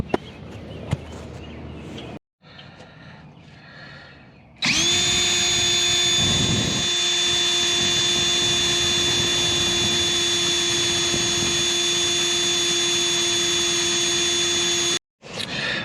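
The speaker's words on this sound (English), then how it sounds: "I'm going to drill these two holes, re-tap them like I did on that side over there, and put the bolts in there." A power drill bores holes into the frame of a Jeep XJ during rear lift work, whining steadily and loudly for about ten seconds after some brief quieter handling sounds.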